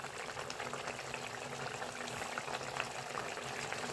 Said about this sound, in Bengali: ঝোলটা ফুটে অনেকটাই কমে গেছে